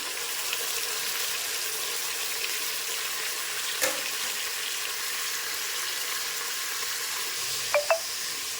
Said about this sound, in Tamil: இந்த 4 வரமிளகாயை கிள்ளி போட்டு நல்லா வதக்கிட்டு அது கூடயே கட் பண்ணி வச்சுருக்க தக்காளி, கருவேப்பிலை எல்லாத்தையும் ஒன்றா போட்டுக்கிறேன்.